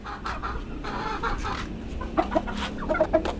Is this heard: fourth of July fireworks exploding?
no